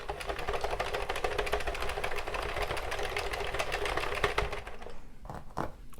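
Sentro knitting machine cranking rounds of a hat, a rapid, steady clatter of plastic needles ticking close by, then slowing and stopping in a few separate clicks near the end.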